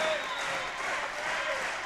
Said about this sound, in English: Fans come to their feet, start a little bit of a clap.